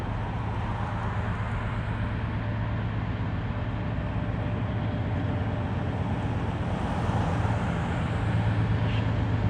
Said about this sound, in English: We got another train coming. This one's coming from the Ohio River, the coal docks, headed eastbound.